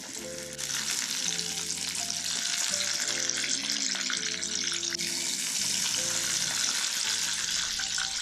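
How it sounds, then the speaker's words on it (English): Large dredged shrimp deep frying in hot high smoke point oil such as grapeseed or peanut oil, a dense steady sizzle and crackle running throughout, with low tonal hum underneath and no talk. "we're ready to dredge and deep fry our shrimp"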